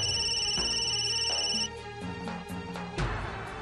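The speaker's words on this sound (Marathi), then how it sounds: "तो फोन वाजून वाजून दमला आणि गप्प झालाय." A phone rings with a bright electronic tone that repeats in even bursts, loud and close, then changes pattern before stopping.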